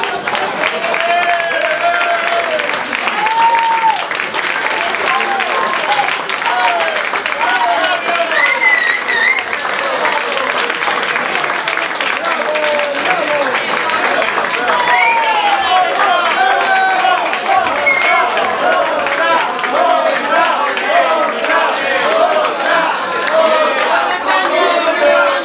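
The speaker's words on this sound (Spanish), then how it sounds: "Fuertes aplausos" A bar crowd at a guitar solo contest prize ceremony applauds loudly and continuously, thick sustained clapping with cheers and voices mixed in throughout.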